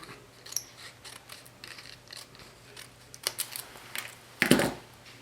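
Scissors snip through a strip of tape in a quiet room: a few light, scattered clicks and small cuts, then one sharper, louder snip near the end, close and alone.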